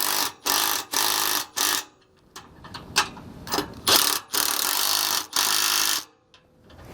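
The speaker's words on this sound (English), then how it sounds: "come back with our 18mm wrench and socket and tighten it down" Ratchet wrench with an 18mm socket tightening hitch bolts on an etrailer RV bumper 2-inch receiver, giving loud, close bursts of rapid clicking in a series of strokes separated by short pauses.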